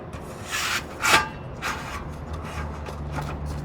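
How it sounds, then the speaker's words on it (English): A wooden top rail slides into the brackets of a cedar fence, making a few short, close scraping rubs of wood on wood. The loudest rub comes about a second in, followed by softer rasps. "Now we just got to slide that top rail in place."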